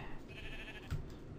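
A Minecraft sheep gives a single short bleat partway through, set against faint background game ambience.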